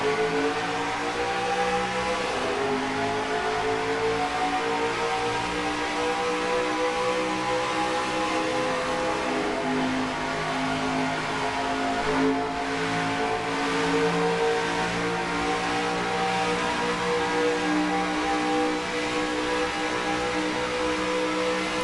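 Pack of race car engines roaring together at the green flag start of a NASCAR Racing 2003 sim race, a dense, steady wall of loud harmonic engine drone with rising pitch as the field accelerates down the front stretch.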